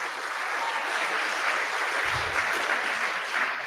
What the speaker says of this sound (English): So big round of applause for Chloe, please, please.